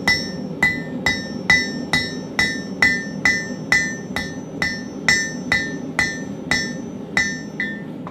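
A hammer strikes metal in a steady, even rhythm, roughly two ringing blows per second and close by, while cutting off a piece for a Viking bracelet, with no voices.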